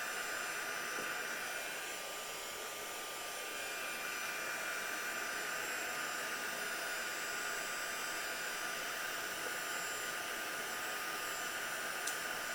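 Heat tool blowing steadily while melting embossing powder on a paper craft project, a constant close airy hiss that stays even and loud throughout with no talking.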